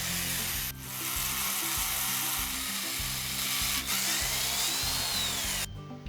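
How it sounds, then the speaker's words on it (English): A power drill whirs steadily, its pitch wavering as it bites into plexiglass, drilling holes for brackets, pausing briefly twice before stopping. "I needed to drill holes to install brackets to hold the exhaust duct in place"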